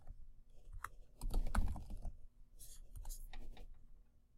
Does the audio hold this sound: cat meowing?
no